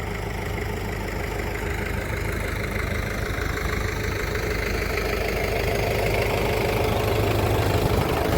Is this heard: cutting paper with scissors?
no